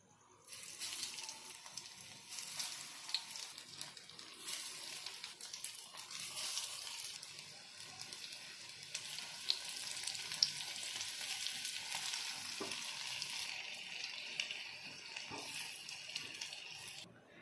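Sabudana fritters frying in hot oil, a continuous bright crackling sizzle that stays fairly steady throughout, with occasional faint clinks, quiet overall and no voices.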